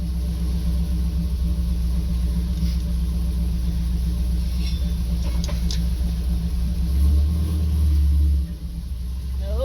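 Rumble of a Camaro engine fitted with a new cam, a steady, deep idle throbbing close by, with a brief swell near the end.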